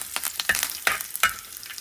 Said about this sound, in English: And the curry leaves are frying.